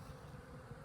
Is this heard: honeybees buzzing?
yes